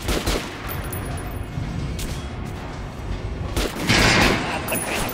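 Gunshots fired at a target dummy in the shooter game Metro Last Light, several loud cracks and bursts spread across the stretch with a sharp blast near the end, game noise between them.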